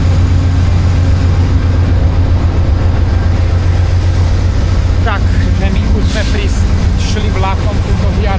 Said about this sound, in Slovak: Šli vlakom túto Via Railom na stanicu do Ottavy